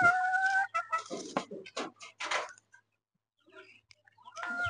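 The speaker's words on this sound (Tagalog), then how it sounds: "Ito mga manok dito." Chickens cluck and call in short bursts, with a pause of quieter, scattered clucks in the middle before the calling picks up again.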